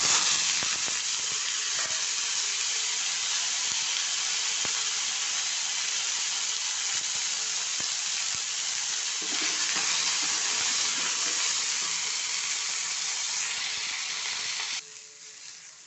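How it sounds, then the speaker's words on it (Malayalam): Small shallots and a green chili fry steadily in hot oil in a pan, giving a continuous loud sizzle and hiss that runs for most of the clip before dropping off near the end. "ഉള്ളി നന്നായി വറന്നിട്ടുണ്ട്"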